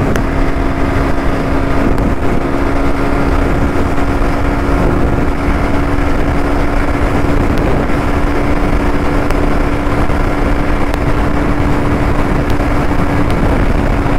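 A Bajaj Pulsar NS200 BS3 motorcycle running at speed in top gear, a loud, constant engine drone mixed with rushing wind that stays steady throughout, with no voices.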